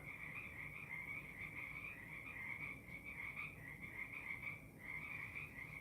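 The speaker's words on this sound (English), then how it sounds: "You got frogs like that?" Frogs croak at a pond in a dense, continuous chorus, trilling steadily and faintly at a distance with no voices.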